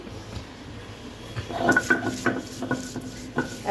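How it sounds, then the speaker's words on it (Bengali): About half a cup of onion is ground into a fine paste on a grinding stone. Rough, rhythmic rubbing strokes scrape back and forth, starting quietly and growing louder and more distinct, with no talking. "পেঁয়াজ বেটে নিচ্ছি হাফ কিলো পরিমাণ চিংড়ি মাছের জন্য"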